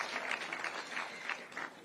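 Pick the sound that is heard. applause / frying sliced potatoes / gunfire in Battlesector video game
applause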